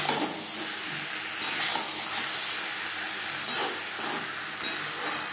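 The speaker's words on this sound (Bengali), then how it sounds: "পরিমাণ মতো হলুদের গুঁড়ো, লবণ, হলুদ, বেগুন, আলু ও মশলার সাথে বেশ ভালো করে মিক্স করে দেবো" Eggplant and boiled potatoes with turmeric, salt and spices tossed in a pan, a constant sizzle with loud scraping bursts of a spatula every second or two, close and without speech.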